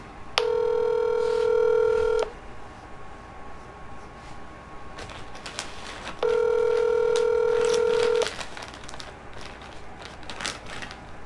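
Speakerphone call with two long bursts of ringback tone separated by pauses, interspersed with faint clicks and background noise, no talking heard.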